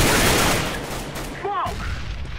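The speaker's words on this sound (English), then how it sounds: "I threw the flashbang." A flashbang grenade goes off in Counter-Strike: Global Offensive amid loud, continuous gunfire and blasts; a sharp burst lands near the middle, with a brief voice heard under the din.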